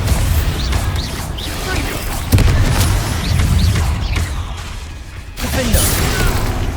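A Bombarda spell blast in the Hogwarts Legacy video game: a sharp explosive crack in the middle of busy combat, with mechanical clatter, whooshes and further booms around it and a voice speaking now and then.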